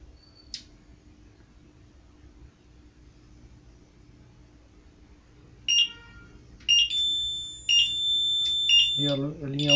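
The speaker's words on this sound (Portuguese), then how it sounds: "Esse bip contínuo indica que ela está recebendo o evento" A Safelink Vectra EX 204 alarm panel gives off high electronic beeps, first several short ones and then a long continuous tone, close and clear above faint background hum.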